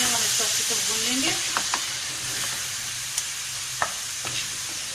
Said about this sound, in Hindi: ये तमाम मसाले डालते हैं हम इसको अच्छे से भून लेंगे।